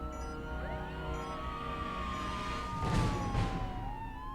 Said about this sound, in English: What's with the police siren?